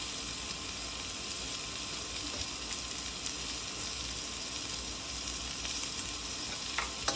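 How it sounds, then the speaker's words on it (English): Julienned red peppers fry in a hot pan for chicken chow mein, giving a loud, steady sizzle that crackles on without a break from start to finish. "I'm going to add my red peppers. These are julienne."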